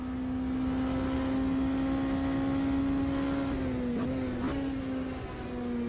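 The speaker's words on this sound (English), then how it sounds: "A couple of downshifts into the right-hander here." LMP2 race car at Sebring in Automobilista 2: a steady, loud, buzzing engine drone that dips sharply twice in quick succession as the driver downshifts into a right-hand corner.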